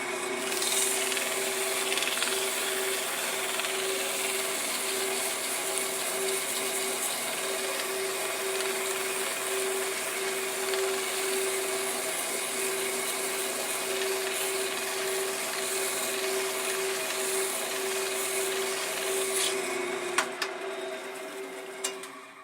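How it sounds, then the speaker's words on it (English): 150 grit sandpaper held against Kentucky Coffee Tree wood spinning on a lathe, a steady continuous rubbing hiss over the constant hum of the machine, unbroken for the whole stretch. "This is only 150 grit sandpaper, and as you do it, you can start to see some of the shine that comes through."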